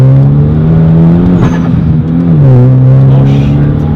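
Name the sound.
Hyundai Genesis Coupe 2.0T accelerating in a second gear pull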